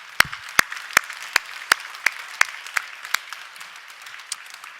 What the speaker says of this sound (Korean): 그 사랑이신 주님께 한번 감사의 박수 드리겠습니다.